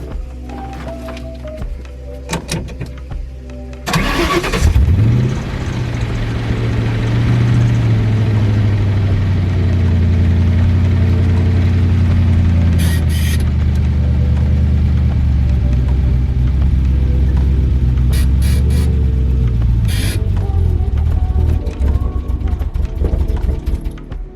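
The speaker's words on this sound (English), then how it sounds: "Alright, so I'm about to start it and then see how the clutch engages exactly." A Ford Mustang engine is cranked and catches with a sharp burst, then settles into a steady, loud idle that runs on for about twenty seconds, with a few light clicks and knocks over the drone.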